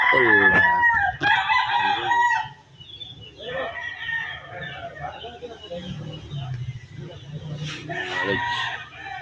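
A rooster crows loudly nearby, its long strained call rising over background clucking, with a person talking in between.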